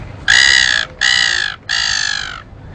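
A person imitates a seagull by whistling with a rolled tongue, making three loud, close, shrill calls in quick succession, each held for about half a second.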